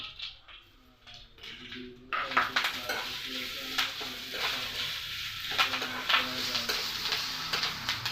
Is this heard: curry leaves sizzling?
yes